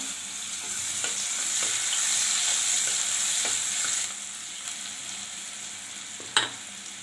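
Onion frying in oil in a pan for egg curry gives a steady, close sizzle, with a few scattered clinks and scrapes of a stirring utensil and one sharper knock near the end; no voices.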